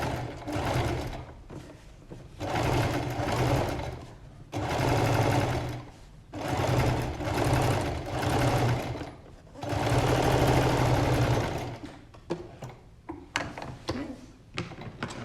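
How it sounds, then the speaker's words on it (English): Sewing machine stitching a curved hip pocket, running in several close, steady bursts of rapid mechanical whirring and ticking separated by short pauses, ending with scattered handling clicks. "Pop that under the machine and stitch as close as you can to the seam on the facing side."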